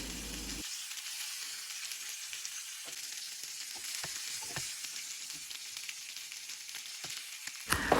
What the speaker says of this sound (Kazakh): келесі жағында дәл осылай қуырып аламыз